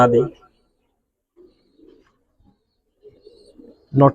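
Soft, low Giribaz pigeon coos come in two short bursts between louder voices talking at the start and end; the cooing is faint and muffled.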